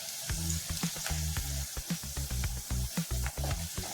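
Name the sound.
cabbage pakoda frying in oil on medium flame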